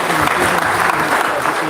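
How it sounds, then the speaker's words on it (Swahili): Applause at a memorial service, a dense, steady wash of many hands clapping together that fills the whole moment without letting up. "Makofi."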